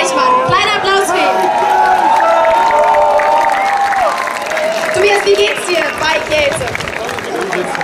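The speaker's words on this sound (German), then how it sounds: "Kleiner Applaus für ihn." Audience applause for handball player Tobias Reichmann during a welcome in Cologne, dense clapping and crowd noise with cheering layered over music and an announcer's voice, holding steady throughout.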